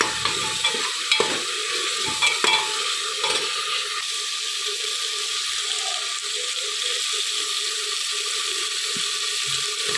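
Ground masala hits hot coconut oil with a sharp sizzle and stirring scrapes at first, then settles into a steady, close frying hiss that carries on alone.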